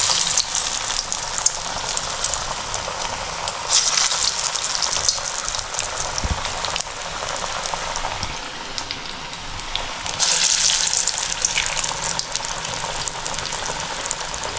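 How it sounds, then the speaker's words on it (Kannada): Chana dal vadas, spicy lentil fritters, frying in hot oil give off a steady, dense sizzle and crackle that stays fairly loud and even throughout, with no talking. "ಕ್ಲೀನಾಗಿ ಒಂಚೂರು ಹಿಂಗೆ ಅಗ್ಲಕ್ಕೆ ಮಾಡಿಕೊಂಡು ಹಿಂಗೆ ಎಣ್ಣೆಗೆ ಬಿಟ್ಕೊಳ್ಳಿ"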